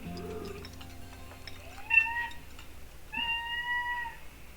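A pet cat gives two clear, fairly close meows a second apart, each a rising tonal call, over a quiet background.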